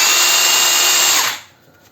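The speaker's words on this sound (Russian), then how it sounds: "демонстрирую работоспособность сверления" A HEIMERDINGER LB169 cordless rotary hammer drills with a loud, steady high-pitched whine, then winds down to near silence near the end.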